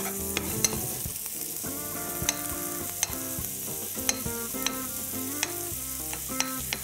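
Bacon sizzles in a frying pan over medium heat for spaghetti while a utensil stirs it, with sharp metallic clinks against the pan at irregular intervals and a soft, steady fry beneath.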